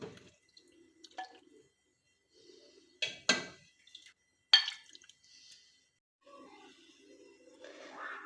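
Cooked aloo chicken served from a pot into a dish: soft, sparse clinks and scrapes of a spoon against the pot, with light wet squelches, quiet and spread out with silent gaps, no talking.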